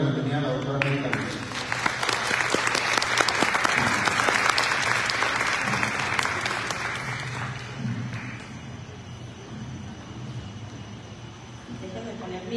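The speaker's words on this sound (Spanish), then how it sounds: "Les pido un aplauso para dar la bienvenida a la doctora América Lutz." A forum audience bursts into loud, dense applause that swells over several seconds, then thins into scattered clapping and a room murmur.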